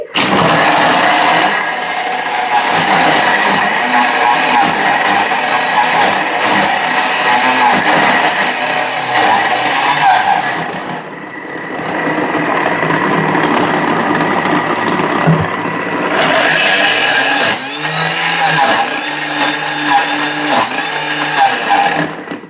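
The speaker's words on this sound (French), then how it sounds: "mais je vais monter un petit peu la vitesse pour pouvoir broyer le chocolat" A kitchen robot runs at high speed grinding chocolate, a loud steady whirring drone with a gritty rattle that dips briefly midway and then picks back up, continuous and close.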